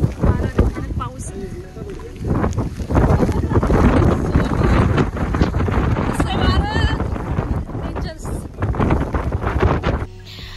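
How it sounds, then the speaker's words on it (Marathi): Strong wind and heavy rain lash Rajgad hill fort during a Dasara celebration. Gusts roar and buffet the microphone almost continuously, and voices can be heard underneath. "भयानक वारा, भयानक पाऊस."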